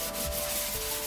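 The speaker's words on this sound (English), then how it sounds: "And then it's just back and forth between sanding and priming and Bondo." Steady back-and-forth sanding rasps across a 3D printed guitar body coated with primer and Bondo filler, close and continuous with no voices.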